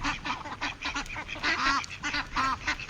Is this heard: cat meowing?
no